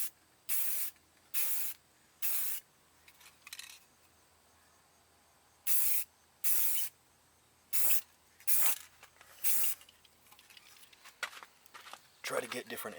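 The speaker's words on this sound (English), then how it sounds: "we're going to go ahead and add another layer of clear coat" A spray gun lays clear coat on an Audi Q5 in about ten short, sharp hissing bursts. They come in quick clusters separated by quiet pauses, close and crisp.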